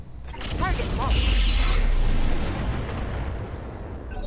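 Battle mechs in the BattleTech Roguetech game opening fire on an enemy: a rolling, heavy barrage of weapon blasts and explosions builds and rumbles for a couple of seconds, then fades, with a few electronic blips around it.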